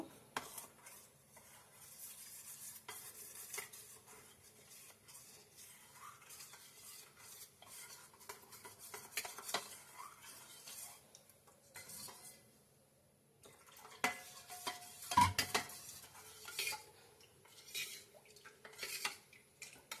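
A utensil stirs and scrapes through thick corn flour batter in a bowl, with irregular clinks against the sides, steady and close, pausing briefly near the middle.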